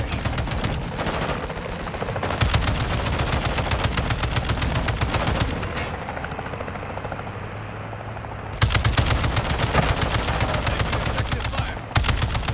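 Rapid machine gun bursts from the game Call of Duty MW2 DMZ rattle loudly and close. They are broken by a brief lull where a helicopter rotor drones, then the firing resumes in sustained bursts.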